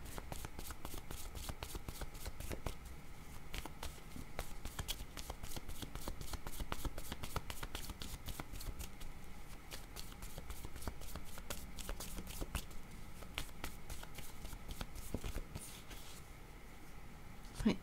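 Small tarot-style cards shuffled continuously by hand, a steady soft riffling and slapping texture close up, with quiet speech underneath in places.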